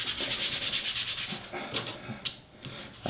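An Ender 3 Pro 3D printer bed is rubbed with a rubbing alcohol pad, a rapid series of close, scratchy back-and-forth wiping strokes that slow and thin out toward the end, with no talking.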